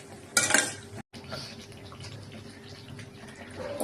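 A metal lid goes onto a cooking pot of creamy chicken curry with a short, close clatter, followed by a quiet bubbling simmer.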